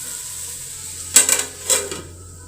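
A metal lid clanks onto a pan of capsicum, carrot and potato baji, with a few quick sharp clinks close by followed by one more rattle, and a soft hiss underneath.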